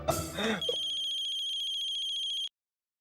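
A mobile phone ringtone plays a bright, steady electronic tone with a pulsing trill for about two seconds after brief noise, then cuts off abruptly into silence.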